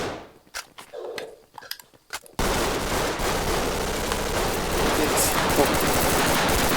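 44 Magnum gunfire in the Roblox shooter game Hypercam: a few sharp shots, then a loud, dense burst of continuous shooting and noise.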